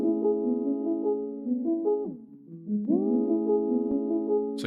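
Synth loop processed with the Evermotion plugin's Speed Demon preset, a sustained harmonic tone that holds steady, dips and bends through a short gliding drop mid-phrase, then swells back to full level and ends with a bright burst, loud and alone.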